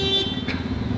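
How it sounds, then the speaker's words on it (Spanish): Car horns honk on a street near a McDonald's, steady tones sounding over a low rumble of traffic and engines for about a second, with no voices. "¡Dejen de tocar el claxon!"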